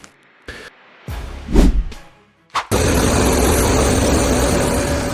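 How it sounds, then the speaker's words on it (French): A New Holland T5050 tractor on twin wheels pulls a 12-row sugar beet seeder: a few isolated knocks and a swell, then a loud, steady engine drone takes over and holds close for the rest. "Un tracteur New Holland T50-50 monté sur des roues jumiers plurignatières pour mieux répartir son poids tire un sommaire Quevernant de 12 rangs."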